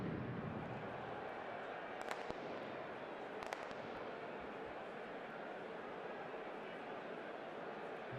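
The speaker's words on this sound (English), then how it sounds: "Pyrotechnics and firecrackers currently dictating the lack of action" Pyrotechnics and firecrackers set off at a football stadium between Hansa Rostock and Dynamo Dresden, heard as two sharp cracks over a constant crowd roar, fairly distant and faint.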